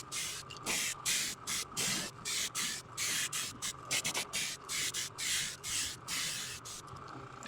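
A Createx PS290 airbrush hisses in short repeated bursts as it sprays base-coat paint onto a crankbait lure, each spray close and steady with brief pauses between passes.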